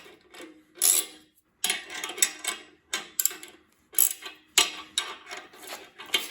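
A bolt is hand-cranked with a 22 ratchet on a Nissan VK45DE V8 engine stand, giving repeated short metallic ratcheting clicks and grinding bursts in an uneven rhythm with brief pauses, close and alone.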